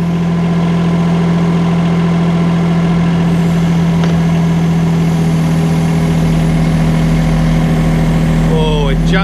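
A mini excavator's heavy diesel engine runs close and loud, its pitch rising and growing rougher as it revs up partway through, with brief speech near the end.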